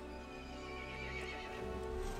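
A horse neighs and whinnies amid a dense, continuous layer of sound in a Resident Evil Village story scene, with hooves clopping underneath at a steady loudness throughout.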